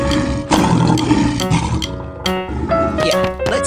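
A lion roars in a loud, rough, growling burst with layered rumbling tones, repeated several times in quick succession over a busy, dense background.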